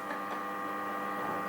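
A basic sewing machine runs steadily, stitching along a fabric seam with a continuous close mechanical hum and rapid needle rhythm, no voices.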